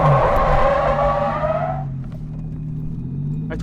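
A Toyota JZX100 drifts around cones, its engine revving hard and then cutting out, leaving a lower rumble and faint tyre noise close by.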